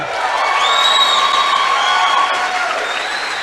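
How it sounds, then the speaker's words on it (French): A crowd applauds and cheers steadily, with whoops rising over sustained clapping, then it cuts off abruptly. "On applaudit."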